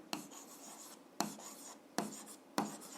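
A pen scratches across paper in four short, quiet strokes, each starting with a sharp onset, as a rectangle's perimeter is written down during an algebra exercise.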